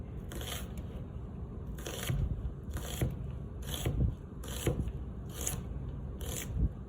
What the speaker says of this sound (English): curl my fingers under, tip of the blade is down, and I'm gonna slice